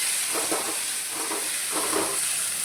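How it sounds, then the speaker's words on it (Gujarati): Mustard seeds and curry leaves fry in hot oil with a constant loud sizzle, close up, and a few swelling bursts of crackling as the seeds pop. "આ રાઈ બધી ફૂટી જાય ને પછી જ આપણે આ બધું નાખવાનું"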